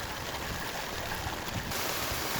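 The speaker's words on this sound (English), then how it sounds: "all the water that you're seeing here is seeping in through the ground, through the gravel" Groundwater seeping through gravel runs steadily along a French drain in a yard, a continuous close hiss of flowing water with no pauses and no voices.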